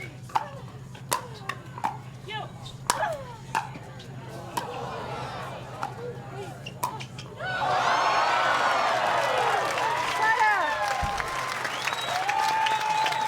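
Pickleball crowd bursting into applause and cheering during a women's doubles gold medal match, starting with scattered claps and shouts, then swelling into sustained loud clapping and whoops, with commentators talking over it.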